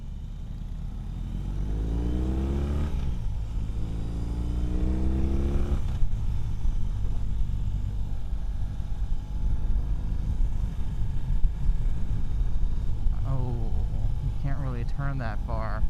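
A 2020 BMW R18 cruiser motorcycle engine drones steadily while riding, with rising and falling pitch as it accelerates and shifts, under continuous wind rush; a person talks over it throughout.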